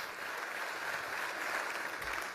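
Benefit dinner guests in a banquet hall applaud a general's introduction, a soft, distant, even patter of many hands continuing throughout.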